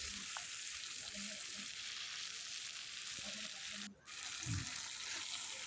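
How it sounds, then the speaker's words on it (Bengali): Broccoli and peas frying in a pan for a broccoli dish, a steady close hiss with a few soft stirring knocks and one brief dip near the end, no talking. "দিয়ে আমি আবারও কিছুক্ষণ নেড়ে চেড়ে ভেজে নেব"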